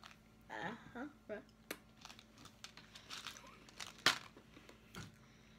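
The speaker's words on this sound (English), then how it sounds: "Sound like you were chewing on yours." Crinkly, crunchy chewing of a small red candy in short bursts, with people talking between bites close to the mic.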